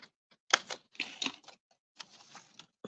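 Scissors or a cutter snip through paper craft pieces in a handful of short, crisp crunching cuts separated by brief quiet gaps, close and fairly soft with no talking.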